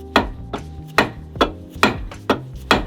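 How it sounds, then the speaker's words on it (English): Seven sharp metallic knocks from a hammer striking a car part strike at a steady pace, each ringing briefly against something solid, close by with no voices. "Want to hammer it real quick?"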